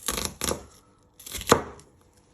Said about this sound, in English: You want to turn it around and you just want to slice it into little pieces.